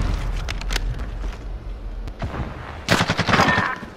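Gunfire in Call of Duty Modern Warfare: a few scattered sharp shots, then a dense, rapid automatic burst near the end, with no talk over it.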